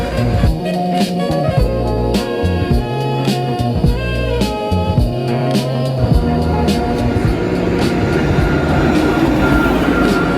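A city tram pulling up at a stop, loud and close, with a heavy rumble, rhythmic wheel clatter over rail joints and rising mechanical whine as it rolls in, no speech.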